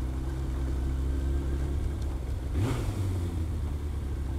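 A Suzuki RF900 motorcycle engine idles steadily at night, then briefly revs up with a rising whine before settling back to a rough, throaty idle.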